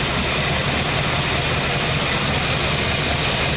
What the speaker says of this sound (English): I think she's idling about 600-700 RPMs